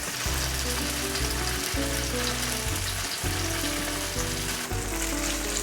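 Turmeric-coated tofu skin rolls fry in a pan of oil with a continuous, even sizzle and crackle, left to cook before flipping. Soft background music plays beneath.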